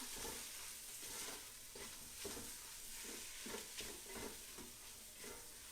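Steady sizzling and crackling of food frying in a heavy cast iron pan, with occasional stirring scrapes over a constant hiss, close and continuous without talk.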